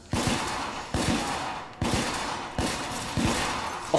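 Heavy gunfire in the video game The Order: 1886, five loud booming shots spaced roughly a second apart, each followed by a short rumbling decay.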